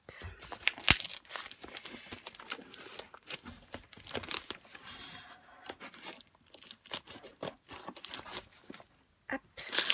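Thick paper crinkling and rustling while a diamond painting kit is unboxed, busy irregular crackles and crumples up close, with brief pauses between handlings.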